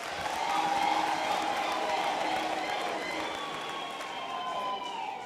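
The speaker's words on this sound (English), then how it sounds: "Let's give him a big round of applause." A large crowd at a university graduation ceremony gives a steady, washing round of applause. It is heard from a distance in a big hall and holds at an even level throughout.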